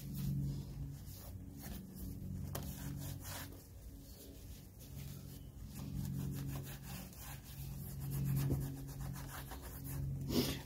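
Excess glue being rubbed off wood trim in a 1984 Mercedes 300TD interior makes a soft, continuous scraping and rubbing close by, with short repeated strokes and no talking.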